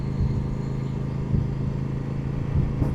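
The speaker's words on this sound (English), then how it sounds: "you can definitely notice that there's some grunt to this engine" Kove 800X Rally motorcycle engine riding through the city at about 50, a steady close mid-pitched drone with slight surges, heard on its own.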